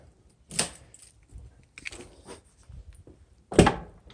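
BMW 325i car door being handled: a few sharp thunks and latch clicks separated by quieter rustling, close and fairly loud, with the strongest clunk near the end.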